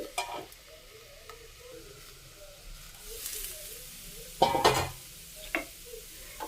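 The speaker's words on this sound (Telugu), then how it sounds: "ఈ విధంగా దోశ అనేది రెండు వైపులు అయితే కాల్చుకోవాలి" Coriander dosa cooking in a covered pan, a low sizzle underneath with a few sharper bursts of hissing and clatter as the lid or spatula moves.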